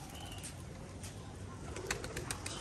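Pigeons coo softly in a loft or rooftop setting, the low calls steady and somewhat distant beneath faint higher chirps.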